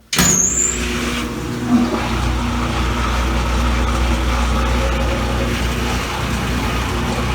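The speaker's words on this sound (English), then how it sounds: "Gonna go ahead and close the lid to continue spinning dry." Kenmore laundry center washer spinning dry with the lid closed, a lid thump at the start and then a steady low motor hum and drum whir that stays level and close.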